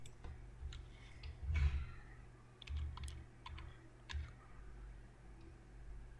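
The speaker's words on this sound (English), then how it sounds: "Now in this box I simply type block graphics like this." Someone types on a computer keyboard with sparse, irregular taps and a few soft clicks. The typing is faint and close, heard alone over quiet room noise with no voices.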